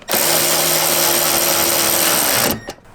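A power tool whirs loudly and steadily for about two and a half seconds while driving bolts with washers into a Jeep JL Wrangler security deck enclosure, then stops abruptly with a small clunk.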